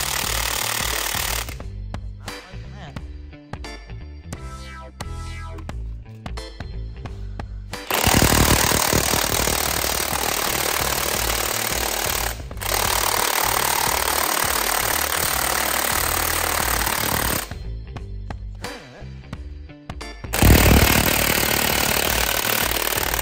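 An impact-style power tool hammers at bolts on a truck axle during a SuperDuty axle swap, firing in several loud rattling bursts separated by quieter pauses and a running engine-like hum.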